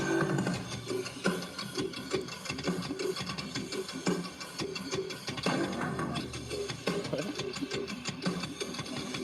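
A rattling, clacking stick instrument is played in a steady rhythm inside a loud, busy piece of music.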